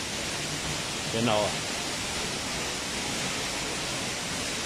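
The Wildensteiner waterfall rushes with a constant broadband roar, and a brief spoken word from a nearby voice rises over it.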